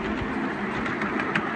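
Model Metropolitan locomotive pulling two suburban coaches on a long miniature railway track at a showground, giving a steady close rumble with rhythmic clickety-clack of wheels over rail joints.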